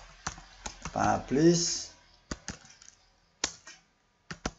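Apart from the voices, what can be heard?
typing search terms on a computer keyboard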